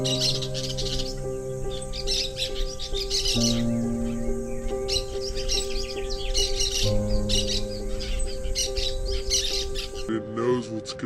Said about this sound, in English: Look, there's a bird